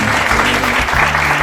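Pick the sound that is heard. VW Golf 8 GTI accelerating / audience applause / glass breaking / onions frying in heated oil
audience applause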